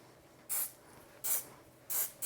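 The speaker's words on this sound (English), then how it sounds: "spraying up into the hair, so you don't collapse the volume" Four short hissing bursts of hairspray, close up, evenly spaced with quiet pauses between them.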